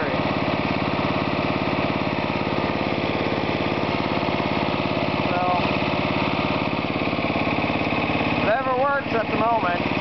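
The engine of a propane-powered lawn tractor runs steadily, charging the battery, with an even, mid-pitched drone throughout. A voice speaks briefly over it near the end.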